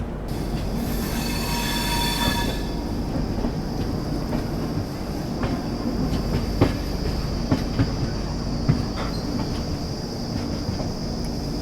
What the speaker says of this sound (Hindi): ट्रेन दोस्तों अपनी अराइव कर रही है प्रयागराज रामबाग रेलवे स्टेशन पर